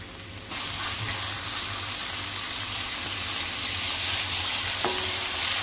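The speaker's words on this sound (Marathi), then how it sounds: "आता कांदा चांगला परतलाय, आपण टोमॅटो घालूया।" Tomatoes tumble into onions already frying in a pan for soya chunks masala, and a loud, continuous sizzle follows with faint stirring scrapes and one sharp clink of the spoon near the end.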